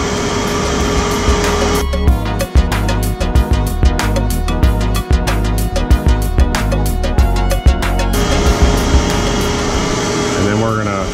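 A shop vacuum draws air through a PVC drain-waste-vent pipe while glue is dabbed around a leaking joint. A loud, constant roar runs throughout, broken by rapid rhythmic knocking in the middle stretch.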